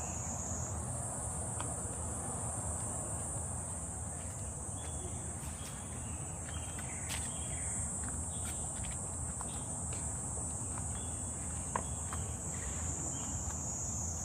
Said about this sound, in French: Il y a des bruits de grillons.